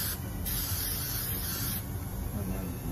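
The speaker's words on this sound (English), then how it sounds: "I'm going to use 3M Super 77 adhesive spray and just spray both sides of this" 3M Super 77 adhesive spray hissing from the can onto fabric, a close, continuous rushing spray lasting a few seconds with a slight break near the start.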